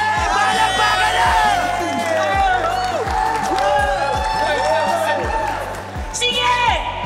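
An audience at a comedy battle show claps and cheers loudly and continuously, with whoops and shouts rising and falling, mixed with a host's voice.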